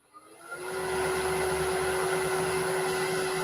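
A wood lathe spins up to about 800 RPM, rising within a second into a steady, loud motor whine with a clear high tone that holds constant.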